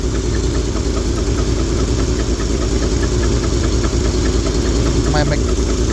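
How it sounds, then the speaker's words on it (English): A 1971 Lincoln engine idles loud and steady, with a faint regular ticking from its Carter mechanical fuel pump riding on top of the rumble. "My Carter mechanical fuel pump sounds like crap."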